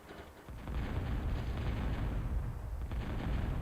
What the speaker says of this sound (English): Just bombing randomly, just to see if he hits something.